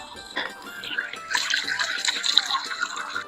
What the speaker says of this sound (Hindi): पानी का चश्मा है